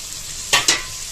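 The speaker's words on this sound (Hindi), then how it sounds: "देखिए टमाटर डाल दे रहे, टमाटर को सबसे लास्ट में डाले जाते क्योंकि ये गल जाता है ना पूरा मिक्सचर से।" Tomatoes tipped into a pan of sizzling chole masala, giving two quick, close hissing bursts over a steady low background.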